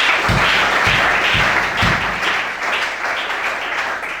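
A church congregation applauding during a worship service, a dense steady wash of clapping with a few heavier beats early on, fairly loud and close throughout.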